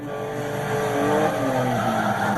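A rally car in the Dirt Rally video game drives a stage in Germany, its engine droning loud and steady with rising and falling revs and some tire noise, no talking over it.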